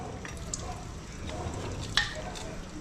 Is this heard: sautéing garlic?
yes